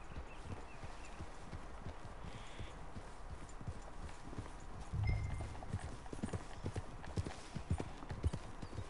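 Horse hooves clip-clop steadily on the ground in Red Dead Redemption 2, a quick, even patter of several horses close by, with faint ambient outdoor noise underneath.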